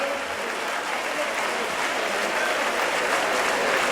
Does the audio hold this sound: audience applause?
yes